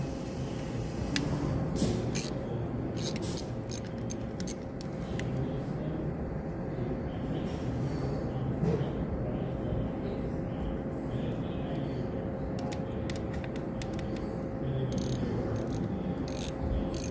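Bottom screws being worked off a lawn mower engine carburetor with a hand tool, giving sparse, close ratcheting clicks and small metallic ticks over a steady low background hum, with no talking.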